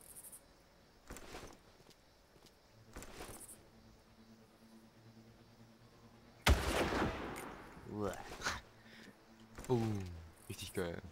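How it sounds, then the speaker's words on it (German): Gunfire in the first Far Cry video game, with a few sharp shot bursts mixed into a stretch of talking, and a louder volley of gunfire toward the end. "Oder ich schieße schon wieder."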